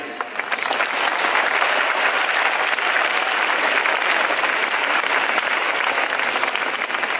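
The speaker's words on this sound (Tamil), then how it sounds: "ஏன் நீங்க கைதட்டுறீங்கன்னு தெரியும்" Sustained applause from an audience after a Tamil poem recitation, dense and steady clapping that fills the whole stretch without any voices.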